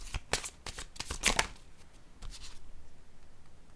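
Tarot cards are shuffled by hand in quick riffling bursts, soft and close, with a run of crisp flutters followed by quieter slides and taps as the deck settles.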